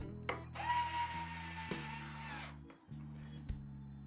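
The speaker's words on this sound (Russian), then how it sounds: "Опять на электрический шуруповерт ставлю биту." An electric screwdriver with a bit drives a screw into a wood speaker cabinet in a short whirring burst of about two seconds, motor pitch shifting under load, with a few knocks before and after.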